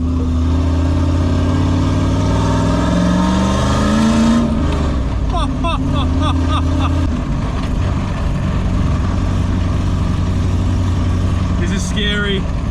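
LS1-engined Nissan Patrol accelerating through the gears, the engine note rising in sweeps, then dropping at shifts, loud and close inside the cabin, with voices talking over it.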